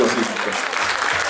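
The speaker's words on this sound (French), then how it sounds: "Et sous vos acclamations" A gala audience at a Gabonese community event in Quebec breaks into dense, sustained applause and cheering while a voice speaks briefly over it.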